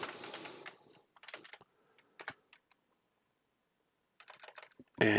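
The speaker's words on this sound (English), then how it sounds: "And apparently I can't type." A computer keyboard is typed on in quick bursts, dense clicking at first, then scattered taps, a long silent pause and another short run of keystrokes close by.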